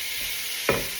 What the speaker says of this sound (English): You can hear that sizzling really nicely.